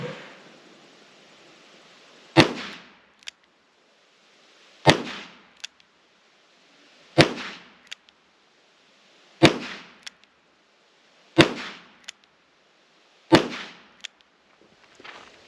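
A Ruger GP100 .357 Magnum revolver fired in single action, six loud, sharp shots spaced about two seconds apart, each with a short echoing tail outdoors.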